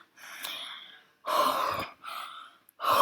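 A voice imitates a character panting, with several loud, breathy gasps and exhalations separated by short pauses.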